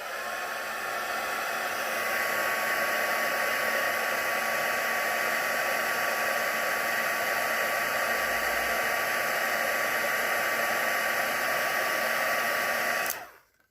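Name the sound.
heat tool heat-setting a watercolour Christmas card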